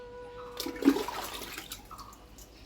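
Water splashing during kitchen cleaning: a short, moderately loud gush and spatter of water close by that swells and then fades, with no talk.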